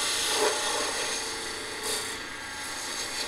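A 3/8-inch spindle gouge rolls a bead on a wooden candle holder spinning on a lathe, giving a steady close hiss and rumble of cutting, with brief louder scrapes as the edge bites.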